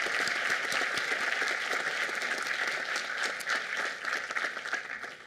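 Sustained audience applause at a university Lavender Graduation ceremony, a dense, steady wash of many hands clapping at full level for about five seconds, thinning slightly toward the end.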